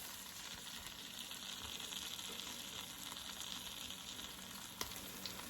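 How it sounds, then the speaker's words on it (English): Round steak frying in melted butter in a pan, a steady crackling sizzle throughout with a faint sharper pop near the end, heard alone without talk. "And let your meat go ahead on and fry on up"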